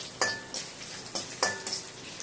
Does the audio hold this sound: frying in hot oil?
yes